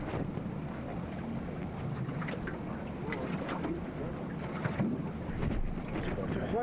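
A motorboat out on the sea near the Chukotka tundra coast, its engine a steady low rumble mixed with wind buffeting and water splashing, continuous throughout, with faint voices now and then.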